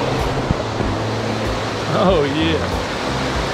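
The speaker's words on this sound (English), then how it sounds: "this is a beautiful creek coming down through there" A mountain creek at Beech Mountain in summer rushes down the slope in a steady, dense wash of water noise, with a brief spoken exclamation rising over the flow.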